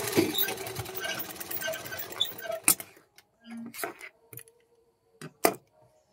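A sewing machine runs a tight pressure stitch along fabric corners in a dense, steady whir for about two and a half seconds, then falls quiet apart from a few isolated clicks and knocks.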